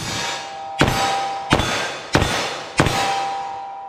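Four sharp metallic clangs from 180-grain 10mm revolver rounds striking a steel target, spaced roughly evenly about two-thirds of a second apart, each ringing briefly before the next.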